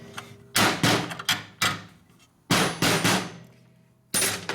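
Hammer blows peening metal on a 1972 Harley-Davidson XL Ironhead Sportster clutch part, six sharp, loud metallic strikes in an irregular rhythm, each ringing briefly before the next, with no talking.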